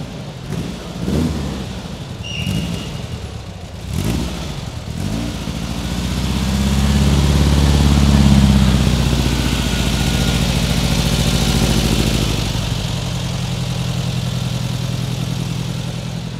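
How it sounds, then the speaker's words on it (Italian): A classic Volkswagen Beetle engine at an AutoMotoRetrò 2023 show starts with a few stuttering bursts, then settles into a loud, steady, throbbing run close by. "Questo maggiolino fa veramente più casino di quanto pensassi."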